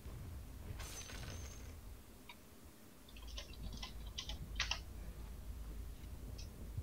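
Computer keyboard keys clatter in short, scattered bursts as a chat message is retyped during a Dota 2 coaching session; the clicks are soft and fairly close over a steady low hum, with no talking.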